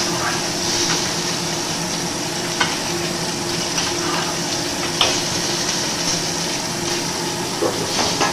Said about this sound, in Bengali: এবার হচ্ছে জল ঢেলে দেবো।